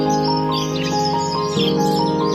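Budgie chirps and short tweets repeat over a steady tonal background hum, close and fairly loud, with no talking.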